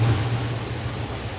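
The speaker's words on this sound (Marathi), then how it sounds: "गाड्यांचा आवाज येतो ट्रॉफिक आहे भरपूर इथं" Roadway traffic rumbles by on a busy street, a loud, steady low engine drone with broadband hiss from passing vehicles, continuous and fairly close, with no talking.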